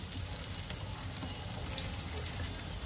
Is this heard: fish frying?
yes